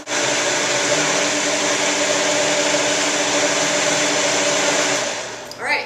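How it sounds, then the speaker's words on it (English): A kitchen blender whirs at a steady high pitch as it purées mac and cheese sauce ingredients until creamy, running loud and unbroken for about five seconds before spinning down and stopping. "we're just going to get them all in the blender here"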